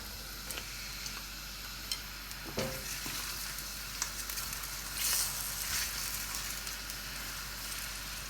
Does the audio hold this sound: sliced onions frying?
yes